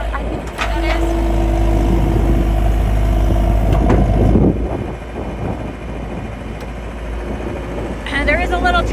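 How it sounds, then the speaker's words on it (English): The 66 hp diesel engine of a John Deere 320 skid steer with an enclosed cab runs at a steady, loud idle with a low rumble, and a voice talks over it. "66 horsepower diesel motor to it"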